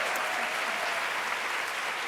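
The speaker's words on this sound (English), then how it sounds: "there is one set of applause that really need to happen" An audience at an art museum education conference session gives warm, sustained applause, an even wash of many hands clapping together without any voices.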